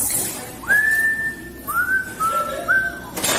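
A man under arrest whistles a short tune, a few clear sustained pitched phrases rising and settling, moderately close over a hissy background with no speech.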